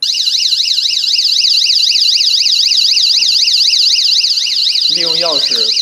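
An anti-theft security alarm on a COMER camera display stand sounds a loud, continuous warbling electronic siren, rising and falling rapidly, with a lower wavering tone joining near the end.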